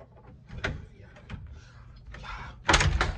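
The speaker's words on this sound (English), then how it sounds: "We gotta push the motherfucking door." A stuck door is pushed and forced open, giving a series of thumps, rattles and scraping knocks that build to a louder bang near the end, with faint voices in between.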